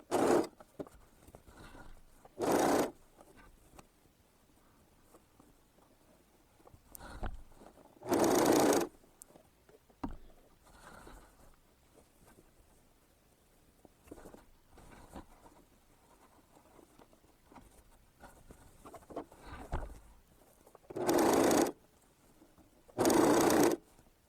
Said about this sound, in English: I'm going to take this actually to my serger and we're going to use a combo stitch